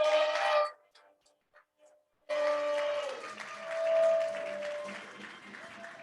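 Audience applause at an anniversary event for the co-executive director, a short burst of clapping that cuts off abruptly, followed by a voice speaking over the room.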